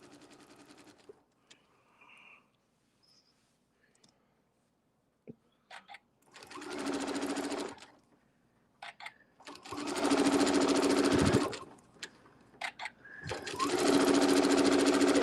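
Sewing machine stitching circles in gold thread for a quilting project, heard in three loud, sustained whirring runs of a few seconds each, separated by quieter pauses with small clicks and handling noises.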